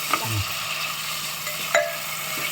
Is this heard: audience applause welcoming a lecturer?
no